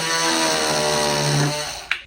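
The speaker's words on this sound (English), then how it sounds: "Oscillating tool, baby." Oscillating multi-tool cutting plastic wheel-well trim on a Cadillac DeVille, a steady loud buzzing whine held for about two seconds, then stopping with a brief sharp click.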